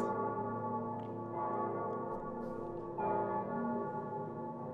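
Church bells toll in Dark Souls 3, a sustained ringing hum with a fresh strike near the end, steady and moderately loud with no talking.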